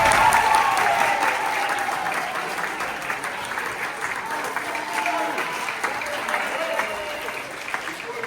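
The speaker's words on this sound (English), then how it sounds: "clap for your teachers" Audience at a school assembly claps for their teachers, a full, sustained burst of crowd applause holding steady throughout, with a voice faintly audible over it at the start.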